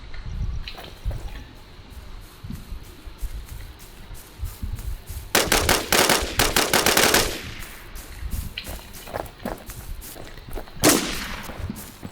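Gunfire in a video game rings out in scattered single shots, then erupts into a long dense automatic burst, followed by more sporadic shots and one final loud crack over a steady background hum.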